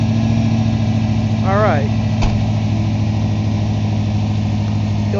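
A 1994 Ford F150 engine, just fitted with new spark plugs, runs with a steady loud idling rumble, and someone speaks briefly over it.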